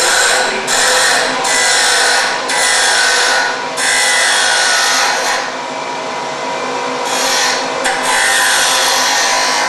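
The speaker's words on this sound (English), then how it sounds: "when you cut with roughing out gouge, like a spindle gouge, or you can use a ball gouge" A roughing out gouge bites into spinning wood on a lathe, giving loud, broadband scraping cuts in repeated bursts of a second or so, separated by brief pauses, with no talk.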